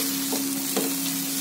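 Egg fried rice, restaurant style, is stir-fried in a pan with a steady close sizzle and two soft scraping stirs over a constant low hum.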